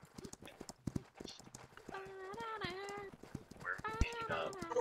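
Steady clip-clop of horse hooves trotting at a quick rhythm in the video game Holdfast: Nations at War, with a horse neighing partway through and voices talking over it.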